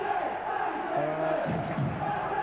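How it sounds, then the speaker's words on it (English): A football crowd at Burnley v Luton Town in a Division match, March 2000, producing a sustained roar of chanting and shouting throughout, dense and distant, without a break. "And a crowd here begging for Andy Payton to come on here."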